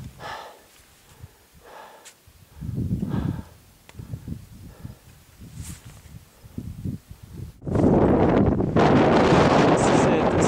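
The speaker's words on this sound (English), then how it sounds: "This is it, this is the summit approach. And the wind." Strong wind buffets the microphone on the summit approach of Quandary Peak, a mountain climb; gusts and rustling are broken by breathing-like noises early on, then a loud, steady roar takes over for the last few seconds.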